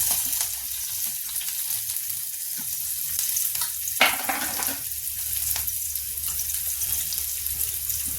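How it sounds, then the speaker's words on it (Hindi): Onion, chili and garlic fry in hot oil, giving a steady, close hiss of sizzling with a brief clatter partway through as the pan is stirred. "ये देखिए थोड़ा तेल गर्म हो रहा है। इसमें डाल देंगे प्याज, मिर्चा और लहसुन।"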